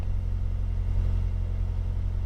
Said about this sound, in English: revving for some unknown reason